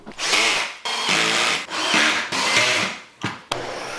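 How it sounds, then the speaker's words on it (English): A power drill drives pocket screws into a wooden frame in four or five loud, close bursts separated by short pauses, the motor whining and catching as each screw seats. "Then I screwed the rest of the frame together with pocket screws."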